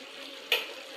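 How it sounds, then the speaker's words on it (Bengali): Jackfruit frying with bottle gourd and potato peels in a pan, a steady close sizzle with one brief louder stir or scrape midway. "কাঁঠালের সাথে লাউ আর আলুর চোচা ভাজতে আছে"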